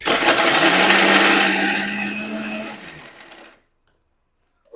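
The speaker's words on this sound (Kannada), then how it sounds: "ಮಿಕ್ಸರ್ ಹಾಕಿಬಿಡೋಣ ಇವಾಗ." A kitchen mixer grinder runs loud and steady with a whirring motor hum for about three and a half seconds, then cuts off abruptly into silence.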